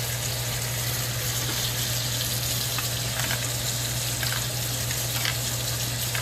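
A sous vide Costco USDA Prime beef ribeye cap steak sears in a hot pan, making a loud, steady sizzle with brief crackles and spatters and a low electric hum beneath, with no talking.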